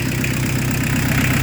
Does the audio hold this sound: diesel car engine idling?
yes